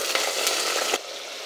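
Cut chicken dropped into a pan of lightly browned frying onions, a loud bright sizzle with stirring scrapes that suddenly drops to a quieter steady hiss.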